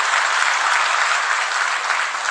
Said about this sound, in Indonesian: Tepuk tangan buat jemaat di tempat ini.